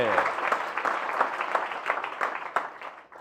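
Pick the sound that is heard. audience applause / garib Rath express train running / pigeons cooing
audience applause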